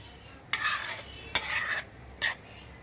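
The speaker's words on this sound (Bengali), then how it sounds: "মশলাগুলি আমি নুডলসের সাথে ভালো করে মাখিয়ে নেব।" Spices are stirred into Maggi noodles for an omelette in three short scraping, stirring passes of a utensil against a pan, each about half a second long, fairly close and with quiet gaps between.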